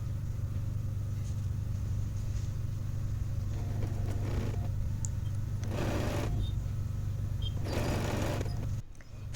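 A sewing machine stitches pin tucks on the lace of kurti sleeves, a steady low mechanical whir running under a room hum, with a few short bursts of faster stitching, no talk.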